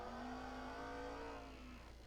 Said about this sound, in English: That exhaust we have on here, guys, is rambunctious.